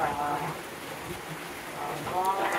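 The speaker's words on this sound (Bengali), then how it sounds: "হ্যাঁ পুরো বৃষ্টি, কি এক অবস্থা।" Steady rain falls in a village during dark, wet weather, a soft continuous hiss of drops under faint background voices.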